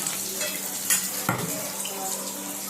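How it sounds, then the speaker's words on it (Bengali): A dhoka lentil cake frying in hot oil after being flipped, with a steady soft sizzle and a couple of brief clinks or stirs; no one speaks. "এইভাবে ভাজা হচ্ছে।"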